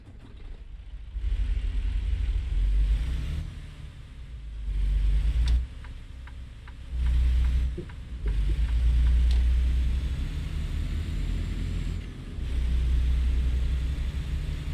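A truck engine in the game American Truck Simulator rumbles deep and heavy, swelling and easing in long surges with brief dips between, loud and continuous.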